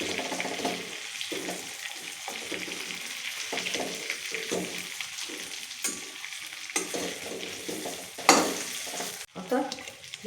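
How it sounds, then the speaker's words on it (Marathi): Stuffed eggplants tossed into hot oil in a pan, frying with a steady close sizzle broken by scraping stirs and occasional louder clatters. "आता हे तेल गरम झालं, आता ही वांगी टाकून घ्यायची त्याच्यात."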